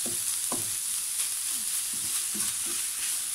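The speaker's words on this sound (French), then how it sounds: "on baisse le feu et on vient mélanger le tout" Beef quiche filling stirred in a frying pan over lowered heat, a steady close sizzle with scraping spoon strokes against the pan at irregular intervals.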